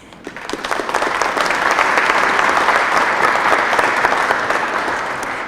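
Applause at a veterans' hall of fame ceremony swells quickly into a full, steady round of clapping from the audience, then begins to taper near the end.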